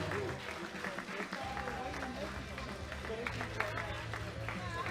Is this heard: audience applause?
yes